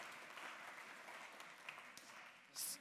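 Quiet applause from a lecture audience at a maths talk, a soft, even patter of clapping that swells briefly near the end.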